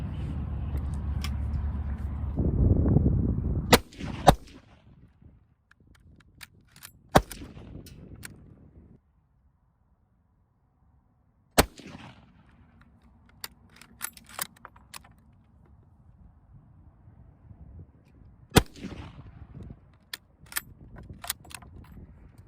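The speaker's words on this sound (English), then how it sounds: "All right, let's take a few shots." Gunshots from a firearm fired in groups of three, sharp loud cracks spread out with quiet gaps and clicks of handling between them, after a stretch of low rumbling at the start.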